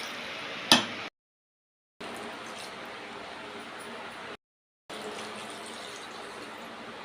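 Water is poured from glasses into a cooking pot of chopped onions for a country-chicken curry, a soft, steady gushing splash after a brief knock, broken by two short silent gaps.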